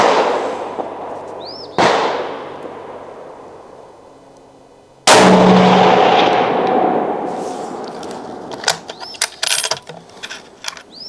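Sharp, loud rifle reports from a Smith & Wesson 1500 bolt-action in 30-06, two big shots a few seconds apart each ringing out and decaying, followed by metallic clicks and clatter of the bolt being worked.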